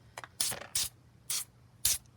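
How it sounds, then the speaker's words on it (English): Four short hissing bursts of silicone aerosol spray onto Finnish M39 Mosin Nagant rifle bolt parts, spaced apart, close and fairly loud, with faint scraping between them. "we're going to use this silicone spray and lightly hit these parts"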